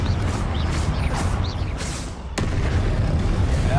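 The Confringo fire-blast spell in the Hogwarts Legacy video game goes off as heavy booming bursts amid dense, continuous battle noise, with a sharp crack partway through.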